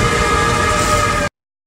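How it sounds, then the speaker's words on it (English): A train whistle blows at a railway station in the film Once Upon a Time in the West, a loud sustained steady tone with rumbling underneath that cuts off abruptly after little more than a second. "he nods off at a train station as the train whistle blows"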